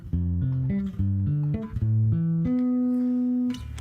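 Bass guitar playing ninth chords as a stepping sequence of clear, close notes that slide down and back up, ending on one long held note that rings out alone.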